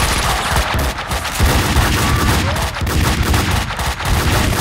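Rapid gunfire in the video game Max Payne 2, loud dense bursts of shots and booms filling the whole stretch with no pause.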